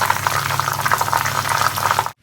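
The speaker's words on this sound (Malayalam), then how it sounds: "ഇനി നമുക്ക് ഇതൊന്ന് ഫ്രൈ ചെയ്തെടുക്കാം." Chips of rolled dough frying in hot oil make a dense, loud, close sizzle with constant bubbling crackle, cutting off abruptly at the end.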